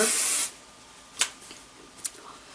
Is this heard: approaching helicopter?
no